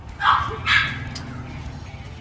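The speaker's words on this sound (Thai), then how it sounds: "ตู้มีเห่าอะไรเนี่ย" A dog barks twice in quick succession indoors, loud and close, followed by lower background noise.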